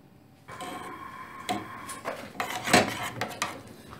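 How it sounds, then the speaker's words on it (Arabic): A utensil stirs melting chocolate in a pot over the heat, with scattered metallic scrapes and clinks against the pot, irregular and close, building toward a sharper clatter midway. "وغنديرها فوق العافيه وكنحركها شويه بشويه حتى يغلي ليا"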